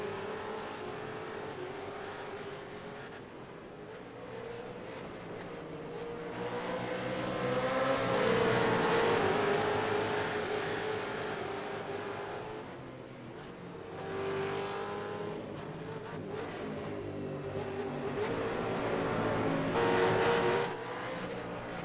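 V8 Supercars race cars circulating at Barber Motorsports Park during the Alabama Grand Prix, engines droning continuously with rising and falling surges as cars pass, fairly distant and steady throughout.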